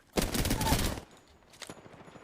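Enemy gunfire in a shooter video game, a short burst of rapid shots up close lasting about a second, followed by faint scattered game sounds.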